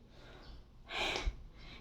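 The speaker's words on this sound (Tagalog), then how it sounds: "hinihingal ako." A pregnant woman, seven months along, lets out a single heavy, breathy exhale as she catches her breath, faint and close, with quiet room noise around it.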